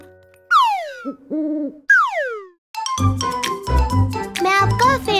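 A cartoon owl sound effect plays as sweeping whistle-like hoots and warbling tones, followed by a bright jingling musical jingle, all close and clean.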